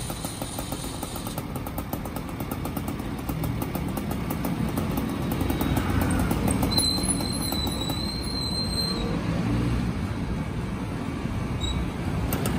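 A newly assembled gas-powered scooter engine idles steadily while warming up, its throttle held low, giving a close, continuous buzzing drone with a faint high whine that holds nearly even throughout, with no voices over it.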